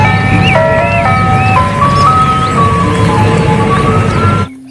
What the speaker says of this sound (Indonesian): Ada mobil es krim.